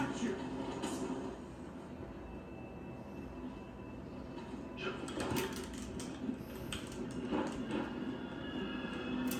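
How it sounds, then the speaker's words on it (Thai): A train in a video game rumbles and rattles in a broad, continuous roar, with bursts of brighter clatter and hiss rising above it and voices mixed in underneath. "รถไฟว่ะขึ้นรถไฟแล้วปะ"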